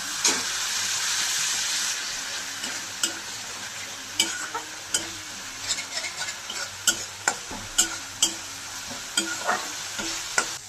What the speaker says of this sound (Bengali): এখন আমি সামান্য জল দিয়ে মশলাটা কষিয়ে নেব।